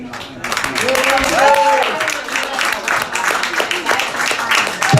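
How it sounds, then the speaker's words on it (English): An audience at a comedy show in Washington DC applauds in a dense, steady patter of clapping with a few cheers, as a host's voice speaks over it. "Give her a huge round of applause"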